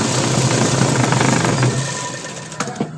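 A sewing machine stitching buckram into a suit neckline, a steady mechanical whirring hum close by that slows and stops near the end with a couple of clicks.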